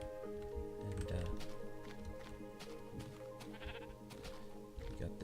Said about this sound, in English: we got the sheep